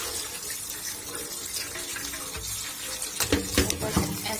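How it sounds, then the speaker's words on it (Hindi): Tap water runs steadily, splashing and hissing over vegetables held in a basket beneath it, with a few louder clattering splashes near the end. "अब वॉश कर लेंगे, टूटी के नीचे रख देंगे ऐसे"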